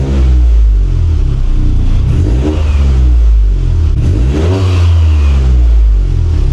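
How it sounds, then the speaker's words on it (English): Loud, close revving of a turbocharged Toyota GR Corolla engine fitted with a K&N intake, in repeated surges, the pitch climbing and dropping as the throttle is blipped, with a deep rumble underneath. "then we'll rev it up so we can hear the turbo a little bit"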